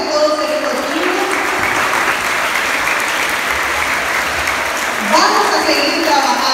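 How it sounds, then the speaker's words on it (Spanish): An audience in Progreso applauds primary school children receiving medals for their good grades, with loud, sustained clapping that swells again near the end, close by and dense. "quiero pedirles un abrazo y un aplauso muy fuerte a todos estos niños"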